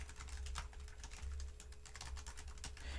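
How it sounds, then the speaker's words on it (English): Someone types continuously on a computer keyboard, a close, faint run of rapid, uneven key clicks with no voices. "Just type your login details and then allow access to application"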